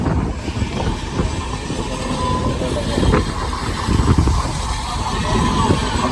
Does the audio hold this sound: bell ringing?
no